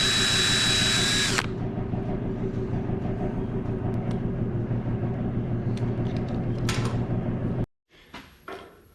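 Power drill with a 7/64 bit cleaning up an out-of-round hole in a welder's suitcase wire feeder, whining steadily and loudly at close range for several seconds, then stopping, followed by a few light clicks and handling sounds.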